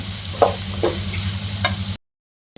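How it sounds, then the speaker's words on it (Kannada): Bitter gourd frying in a pan, a close, steady sizzle with a few scraping stirs of a spatula, then an abrupt cut to silence before the sound briefly returns. "ಇವಾಗ ಅರಿಶಿನ ಮತ್ತು ಉಪ್ಪು ಹಾಕ್ಕೊಂಡು ಮತ್ತೆ ಇನ್ನೊಂದು ಸ್ವಲ್ಪ ಫ್ರೈ ಮಾಡ್ಕೊತಾ ಇದ್ದೀನಿ ಇದನ್ನು"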